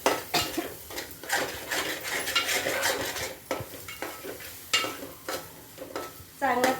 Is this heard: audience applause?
no